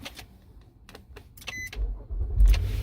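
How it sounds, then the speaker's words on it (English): A Nissan car's engine starts up after a few light clicks inside the cabin, rising into a low, steady idle rumble heard up close. "You come in, you start your car."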